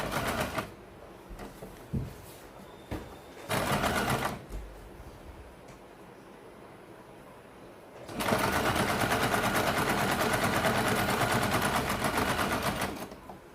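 Close sewing machine stitching a Katori blouse, with brief start-stop bursts early on, a quieter stretch, then a long loud continuous run of fast rhythmic needle clatter.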